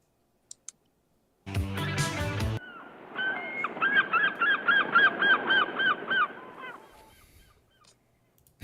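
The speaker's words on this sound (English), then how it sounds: "Flock of seagulls" A flock of birds calling in a rapid, repeated honking chorus that rises to a loud burst, follows a short musical intro, and then trails off to fainter calls.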